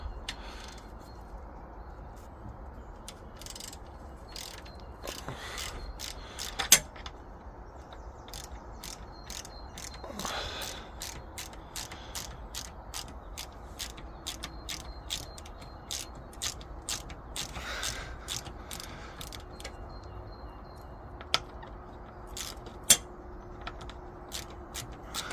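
A ratchet undoes bolts on a wooden bench frame during a bench restoration, giving many quick, sharp clicks in uneven bursts over a steady background.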